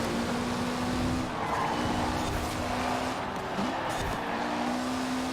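A Mitsubishi Lancer Evolution's engine drones steadily in Forza Horizon 4, holding a sustained tone that rises once as the car accelerates, with faint tire noise beneath it.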